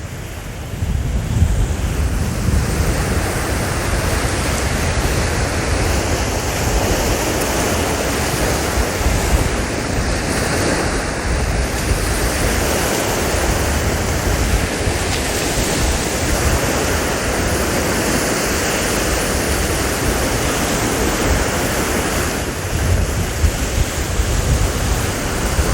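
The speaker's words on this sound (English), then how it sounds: "I will continue to look for some shells as we enjoy the rolling waves." Ocean waves roll onto a beach at low tide in a steady loud wash of surf, mixed with wind buffeting the microphone, continuous for the whole stretch with no voices.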